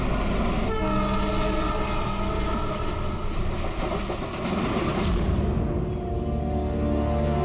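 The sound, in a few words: passenger train running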